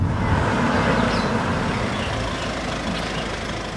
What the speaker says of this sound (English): what the S mode really does is it makes the engine hold on to those revs much more longer and makes the gear shifts much more crisper